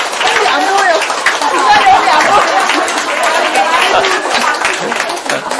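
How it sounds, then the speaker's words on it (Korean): An audience at a flower-presentation ceremony at a spiritual center applauds, with dense clapping mixed with loud chatter and voices all the way through. "여러분 축하 박수 주시기 바랍니다"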